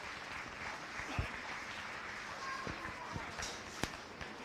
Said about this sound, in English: Let's go ahead and give both those kids a nice round of applause.